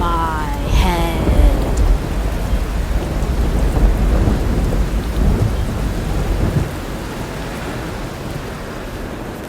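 Stormy night ambience of heavy rain and rolling thunder, a loud rumbling crack near the start giving way to steady, dense rainfall that continues alone to the end.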